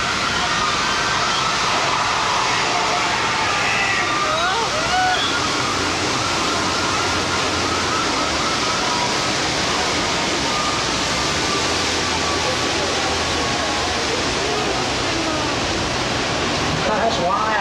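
Rushing floodwater effect on the Universal Studios tour, a loud, steady, broad roar of pouring and splashing water that fills the whole stretch, with faint voices underneath.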